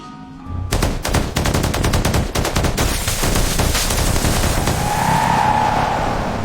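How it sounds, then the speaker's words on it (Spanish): A sustained, loud burst of rapid gunfire rattles in a continuous volley, with dense repeated shots at first and then a heavy, steady roar of firing that goes on without a break. No voices are heard. "Del otro lado de la línea, don David se da cuenta que repentinamente solo se escuchan los disparos"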